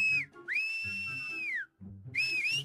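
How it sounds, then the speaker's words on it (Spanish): A person whistles loudly and close by in three bright tonal phrases, the first short, the second long and held with rising and falling ends, the third brief and wavering, with soft background noise between. "Ay, no, ese de seguro es Mario, así chifla el baboso."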